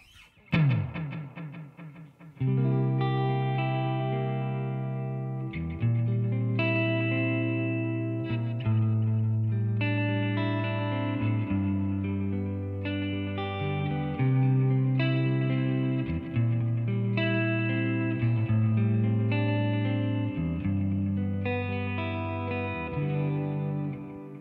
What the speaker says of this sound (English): Ping pong reverb.